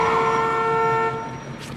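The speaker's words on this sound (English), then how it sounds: "getting honked at by a driver" A cartoon car horn gives one sustained, bright honk that is loud and close, then fades and cuts out after about a second.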